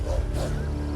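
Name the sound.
wolves in the grass, from video game Black Desert Online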